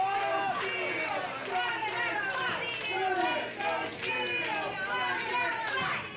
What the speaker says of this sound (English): The crowd is chanting for Steele.